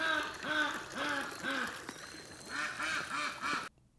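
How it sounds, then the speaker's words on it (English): Several ducks quack loudly and close by in a quick repeating series, with a brief pause midway before the quacking resumes. "ducks,"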